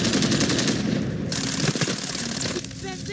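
Gunfire in the video game Call of Duty: Warzone, dense rapid automatic bursts and shots crackling loud and continuous, with game voices faintly mixed in.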